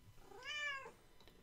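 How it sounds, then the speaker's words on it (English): A domestic cat gives a single clear, drawn-out meow, close and fairly loud, rising and falling over about half a second in an otherwise quiet indoor room. "Don't meow in my video, please."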